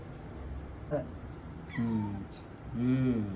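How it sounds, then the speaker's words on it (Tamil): A house cat at home gives two drawn-out, rising-and-falling meows close by, with a short sharper sound just before them and a person's voice mixed in. "இதுதான் எங்க வீட்டுல உள்ள பூச்சை. மியாவ் சொல்லு மியாவ்."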